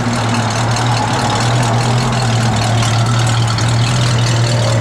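A car's C-code 289 two-barrel V8 idles close by, a loud, steady, low rumbling drone that stays even for the whole stretch.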